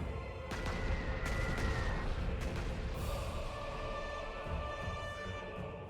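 Rocket artillery strikes in Panzer Corps 2, a steady barrage of booms and blasts with sharp impacts scattered throughout, at moderate level.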